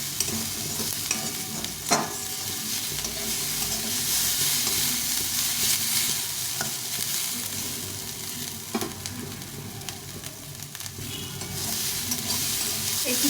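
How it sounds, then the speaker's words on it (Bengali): Bottle gourd peels with potato and onion sizzle and hiss in a hot pan over medium-low heat, with occasional scraping stirs and clinks of a spatula cutting through the steady frying noise. "এখন ভালো করে নেড়ে চেড়ে ভেজে নিতে হবে"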